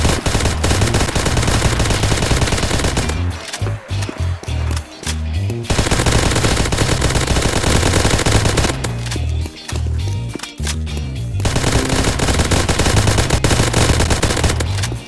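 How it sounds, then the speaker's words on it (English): HK MP5A5 submachine gun fires in Minecraft in long, rapid automatic bursts, loud and close, split by brief pauses and a couple of short gaps between strings of rounds. "Our 7th gun, the HK MP5A5."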